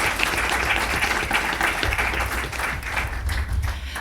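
An audience at a Bolivian election discussion event applauds, dense sustained clapping at a fairly loud, steady level with a low rumble underneath.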